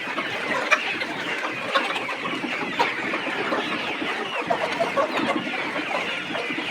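Young layer chicks on a poultry farm cluck and cheep in a continuous busy chorus, a dense flock close by with no voices over it.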